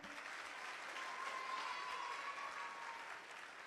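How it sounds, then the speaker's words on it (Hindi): Audience applause at an outdoor civic event in Delhi, a crowd clapping steadily in a continuous even wash, somewhat distant and moderate in level. "तो ताली कौन बजाएगा?"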